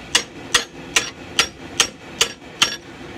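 Seven evenly spaced metallic hammer blows drive a Viking seax knife guard onto its tang through square tubing clamped in a vise, loud and close with a ringing edge.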